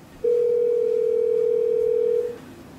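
An incoming phone call alerts on an iPhone and an iPad together: a single steady electronic tone holds for about two seconds, loud and clean, then cuts off, with no talking.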